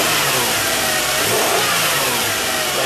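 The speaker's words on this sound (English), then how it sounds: "And I'm going to go ahead and race the engine a little bit." A 1996 Toyota Avalon engine, still cold, revs up loud and close in a steady run of throttle blips over a running idle, with no talk.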